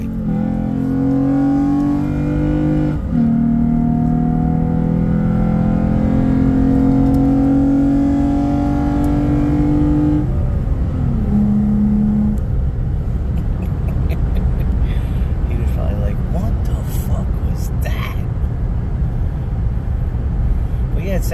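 A Gen 3 Toyota Tacoma SR5 fitted with an S&B cold air intake accelerates hard, engine note climbing steadily through the gears with a shift around midway, loud from inside the cab, then settling into broadband road and wind roar.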